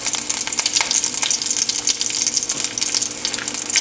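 Curry leaves and mustard seeds frying in hot oil give a close, steady, crackling sizzle dotted with sharp sputtering pops, with no voices over it.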